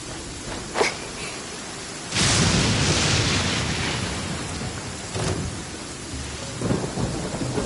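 A thunderstorm in the video game Genshin Impact: heavy rain hisses steadily while a sharp thunder crack lands, then a loud rolling boom swells and fades under continuing downpour, with further distant rumbles.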